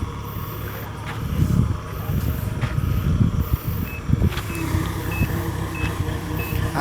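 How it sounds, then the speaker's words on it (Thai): A Kubota DC70G combine harvester unloads rice in a field, its engine rumbling steadily at moderate distance with clattering machinery, wind noise and a faint repeating beep in the second half. "รถเกี่ยวคูปต้าอุ้ม รถอุ้มครับ DC 70ถ่ายข้าวนะครับ"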